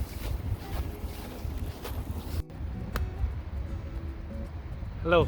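Wind sweeping over an open hay field on a farm in Canada, producing a continuous low buffeting rumble with gusts that rise and fall.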